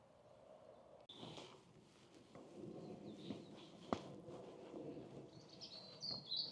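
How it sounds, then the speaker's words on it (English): Blackbirds, blue tits and robins sing faintly in a breezy fenced-off area at The Chase/Eastbrookend nature reserve, scattered chirps and short phrases over steady wind, with a brief thump partway through. "You can hear some blackbirds, blue tits,"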